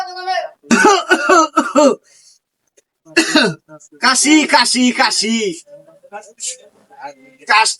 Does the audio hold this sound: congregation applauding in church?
no